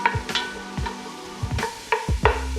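Chopped onions stirred in a hot pan for turkey chili, a steady sizzle with repeated scraping strokes of the spoon roughly every half second, close and clear with no talk.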